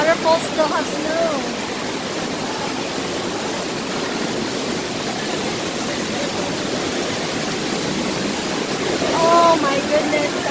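Loud, steady roar of rushing water at Zapata Falls, Colorado, with snow still at the falls, fills the scene, broadband and constant, with faint voices speaking briefly at the start and near the end.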